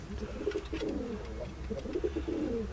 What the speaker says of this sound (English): that's due to pigeons being on the roof